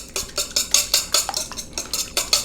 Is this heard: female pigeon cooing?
no